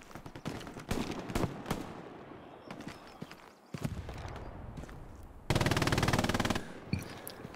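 Machine gun fire in a multiplayer video game battle, rapid bursts of shots near and far with a long sustained loud volley toward the end.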